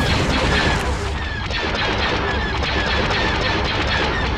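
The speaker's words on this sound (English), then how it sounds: "Directing fire on the shield generator." Space battle in Star Wars Empire at War, ships firing on a shield generator: a continuous dense barrage of blaster shots and booming impacts, loud and sustained with high laser streaks layered over rumbling explosions.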